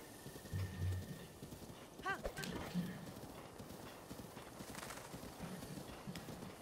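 Skeleton horse hooves clip-clop in Zelda: Breath of the Wild. The hoofbeats are soft and irregular under game ambience and music, and a brief whinny is heard. A person talks over them.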